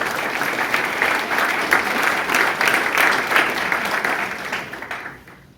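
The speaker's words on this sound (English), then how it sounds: "You can give yourself some applause now" An audience gives a sustained round of applause, many hands clapping in a full, steady roar that tapers off and stops near the end.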